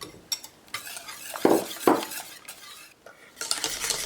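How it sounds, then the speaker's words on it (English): A metal whisk scrapes and clinks around a pot of thickening strawberry filling on a low stove, with irregular stirring strokes and occasional louder knocks against the pan, close by. "Continue to stir it with a whisk until it's nice and thick."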